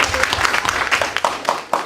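Short burst of classroom applause after a student group's linear algebra project presentation, a close, uneven patter of a few pairs of hands clapping loudly for under two seconds.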